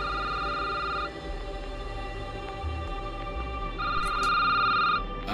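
A telephone in a video game rings with a bright electronic ring, two bursts separated by a pause, over a quiet low hum.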